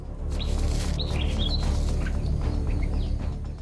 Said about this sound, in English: the faint chirping of the baby birds has attracted the hunter's attention.